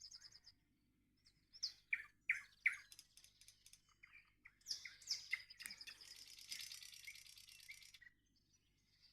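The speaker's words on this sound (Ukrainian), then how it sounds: "Знову соловей." A nightingale sings at about five in the morning on a cloudy early June day in a garden, bright clear phrases of whistles, trills and rapid chirps in bursts, moderately near against quiet background.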